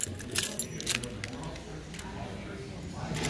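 A set of keys jangles in short metallic bursts near the start, with background chatter around them at an estate sale.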